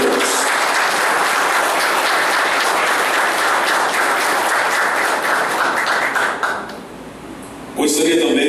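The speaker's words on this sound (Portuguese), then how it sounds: "eu gostaria de pedir a todos uma salva de palmas para vocês mesmos" Sustained audience applause at a national meeting of a liberal democratic political league, dense and loud clapping from a large crowd that thins out near the end before a brief sound at the close.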